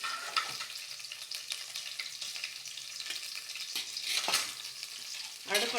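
Onions and garlic frying in oil in a pan for a biryani, a soft, continuous sizzle with occasional scrapes and clinks of stirring, close but fairly quiet, with no talking.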